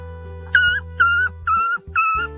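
A dog reunited with its owner after seven weeks apart whimpers and yips in four drawn-out, high whining cries, each one loud and close, with short pauses between them.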